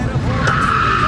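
A car sliding through a gentle handbrake turn, a short loud tire skid with a steady squeal, close and continuous over engine noise.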